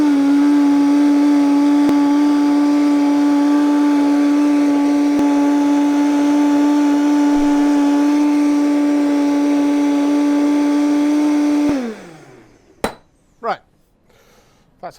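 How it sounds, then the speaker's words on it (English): A blender purees parsley at full speed, giving a loud, steady motor whine for about twelve seconds before the motor winds down and stops, followed by a few sharp clinks. "We're going to turn that up full speed and blend that into a really fine puree."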